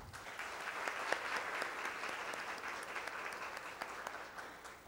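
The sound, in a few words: audience applause for a court choir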